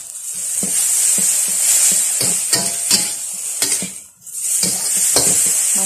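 Midin fern being stir-fried with belacan in a pan, a continuous loud sizzle broken by repeated scraping and clanking stirs of a spatula against the metal, with a brief lull near the end.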